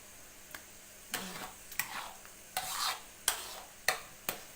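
Boiling sago is stirred in a pot, with repeated scraping and sloshing strokes at an uneven rhythm about every half second to second. The strokes are close and moderately loud over a faint bubbling background.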